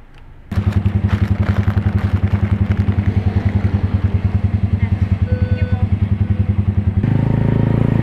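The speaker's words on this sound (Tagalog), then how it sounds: "di mo kaya mag-drive-thru gamit ang scrambler" A Keeway CR152 scrambler motorcycle engine idles loudly and steadily with a rhythmic thumping putter at a drive-thru, then revs up briefly near the end.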